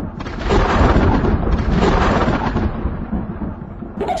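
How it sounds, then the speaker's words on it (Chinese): A thunder sound effect rumbles loudly and continuously for about four seconds, a deep sustained roll with a fresh crack near the end, played during a Chinese variety show. "听雷声"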